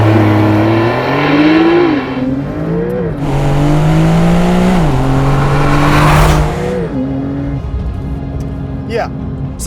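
A Porsche 911 with Sport Chrono launches hard: a loud, close engine note climbs steeply, drops at each upshift and climbs again in stepped surges before easing away.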